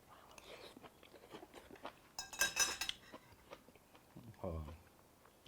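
A spoon clinks and scrapes against dishes in a short burst of metallic rattling, with faint chewing and quiet talk around it during a home meal of Thai stir-fried greens and chili paste.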